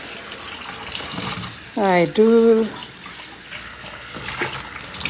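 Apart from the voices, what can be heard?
tap water running while rinsing dishes in a sink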